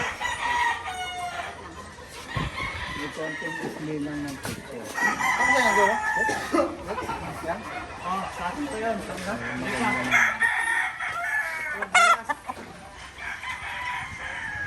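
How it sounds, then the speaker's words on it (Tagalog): Several roosters crow repeatedly, some near and some farther off, mixed with clucking and occasional voices talking in the background. "first time to makita natin si Sir B-Boy na nagka-classified ng manok"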